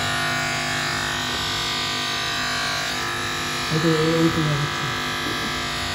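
An electric hair clipper buzzes steadily through a boy's first haircut, a continuous close hum with a brief louder stretch partway through, while people talk nearby.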